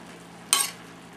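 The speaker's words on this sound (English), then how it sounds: "you would also saute the onions and the peppers together" Onions and peppers being sautéed in a pot, heard as one brief, loud sizzle as they hit the hot pan, then a quiet hiss for the rest.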